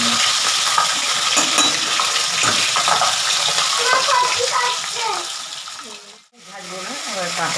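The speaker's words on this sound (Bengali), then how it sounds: "মাছটা খুব ফুটছে, গেলে কাছে যেতে পারছি না" Katla fish frying in hot oil for a milk-based fish curry, a loud, constant crackling spatter close by, with a brief dip near the end before the hiss picks up again.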